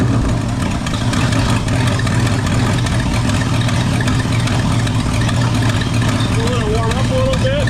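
Ford engine idling steadily just after being fired up in a shop, a continuous loud rumble with people talking over it.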